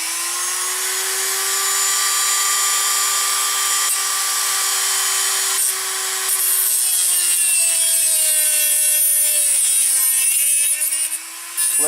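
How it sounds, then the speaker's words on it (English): A Dremel rotary tool cuts a screwdriver slot into a new wooden stud, a loud, close, high-pitched whine with a steady rasp of the bit biting the wood, its pitch sagging slightly under load near the end. "I took a Dremel, made a screwdriver slot in it"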